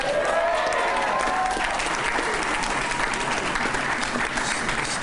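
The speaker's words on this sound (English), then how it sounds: "Give Steve a round of applause" Dense, steady applause from a large crowd at a political rally, loud and continuous throughout with faint cheering mixed in.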